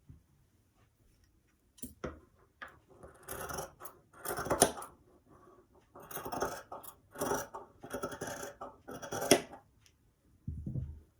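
Scissors cut through leopard print dress fabric in short bursts of crisp snipping and sliding, with quiet pauses between strokes, heard close up.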